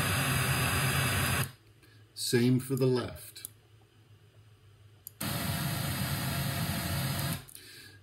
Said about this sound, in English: the monitor on the right only will give the sound of the pink noise